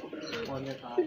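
A pigeon, a captured female, gives a short soft coo nearby, a low throaty murmur lasting about a second, with faint background noise and no other sounds over it.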